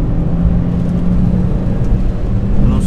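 Steady low rumble and whir of a Ravon R2 automatic car rolling along a road, heard from inside, continuous and fairly loud.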